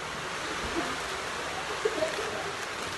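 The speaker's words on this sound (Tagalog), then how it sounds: "Kasi nga lakas ng ulan." Heavy rain falls steadily in a mountain village in Kalinga, a soft continuous hiss with occasional faint drops, heard alone without talk.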